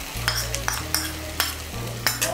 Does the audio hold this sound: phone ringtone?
no